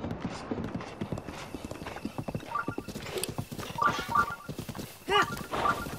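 Hoofbeats of a horse galloping across a bridge in the video game The Legend of Zelda: Breath of the Wild, a steady rapid clip-clop with brief whinnies, heard alongside someone talking.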